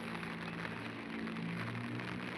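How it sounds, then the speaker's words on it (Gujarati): Rain falls steadily outside, a faint, even wash of patter with a low background hum and no other sounds. "જો અત્યારે વરસાદ પડી રહ્યો છે બહાર"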